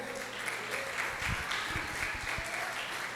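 Applause from a church congregation during a sermon, a steady wash of clapping hands at moderate distance, fairly soft and sustained for a few seconds.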